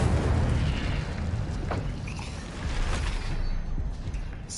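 An Incendio fire spell goes off in Hogwarts Legacy with a rushing, crackling burst, followed by a rumbling whoosh and some clanking impacts that swell again near the end.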